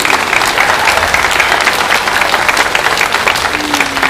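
Crowd at a Journée des Patriotes rally applauding, loud dense clapping that holds steady and unbroken across the whole stretch.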